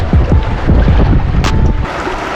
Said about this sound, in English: Wind just gusting down in my face.